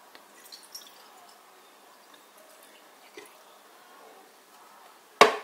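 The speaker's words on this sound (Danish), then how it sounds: "man fylder vand i" Water trickles faintly into the base of a Bialetti Venus moka pot, a soft, low-level pour with small drips, ending in a louder clunk or splash.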